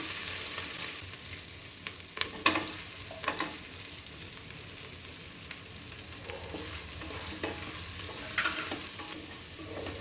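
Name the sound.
ginger, garlic and green chili sautéing in a pan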